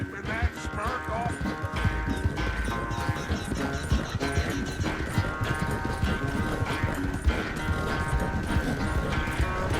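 Horse hooves clip-clop steadily in Red Dead Redemption 2, a continuous rhythmic trot under a dense game soundscape of music and ambient noise, with occasional snorts.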